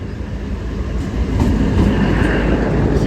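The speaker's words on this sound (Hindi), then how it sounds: "अराइवल हो चुका है अनंतनाग रेलवे स्टेशन पर ट्रेन का।" A train pulls into Anantnag station in the Kashmir Valley with a steady, loud rolling rumble that builds slightly, and no voices are heard.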